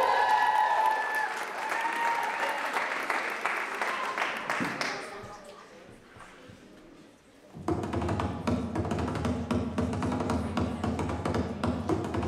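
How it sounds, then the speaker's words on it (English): Audience applause for Irish step dancers at an evening college show, a steady crowd clapping that fades to a lull, then bursts back in loud and dense. "Give it up for Irish step."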